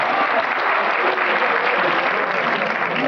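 Applause from the audience during a televised quiz game quarterfinal, a continuous, dense wall of clapping that holds at an even level with no pauses.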